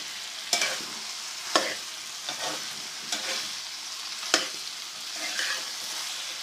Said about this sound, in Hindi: इस इसको इस तरह मिक्स करना है कि ये हर जगह जो है मसाला जो है वो अच्छी तरीके से पहुंच जाए।